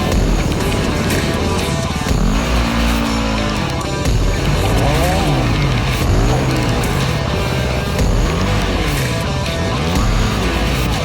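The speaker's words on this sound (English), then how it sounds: "that big, powerful 450 on motocross tires wasn't easy to get over the rocks" A big 450 enduro motorcycle on motocross tires climbs over rocks, its engine revving loud and close, repeatedly rising and falling in pitch as the throttle is worked, with more engines blending in behind.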